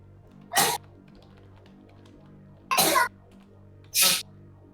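Three sharp sneezes spaced apart over low background music, close to the microphone.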